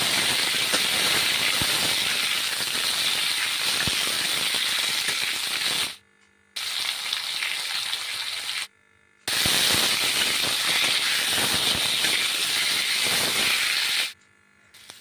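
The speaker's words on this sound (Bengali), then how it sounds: "এরপর আলুগুলো ভালো করে ভেজে নিতে হবে লবণ হলুদ দিয়ে" Potatoes frying in hot oil with salt and turmeric in a kadai give a loud, steady hiss and crackle, broken by two short silent gaps.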